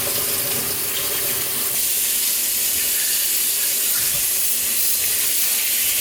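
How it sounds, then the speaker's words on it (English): Tap water runs steadily and loudly into a sink as meat bones are rinsed under cold water, a constant splashing rush with slight shifts as they are moved under the stream. "we're gonna rinse her in cold water"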